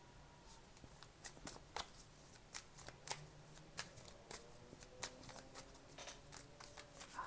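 Quick bursts of tarot card shuffling on a table, a series of sharp riffling flutters and taps repeating unevenly over several seconds, close and fairly quiet.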